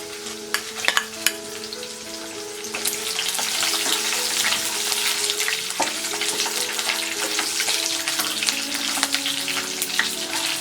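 Red chillies frying in a pan for red coconut chutney, a loud crackling sizzle with sharp pops and spatters, the hiss building after a few seconds and staying close and steady with no speech.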